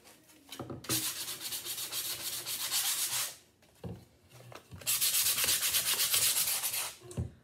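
Wood being hand-sanded for a distressed, aged look on a rustic wooden heart craft, heard as loud, close back-and-forth rubbing strokes in two long runs separated by a brief pause.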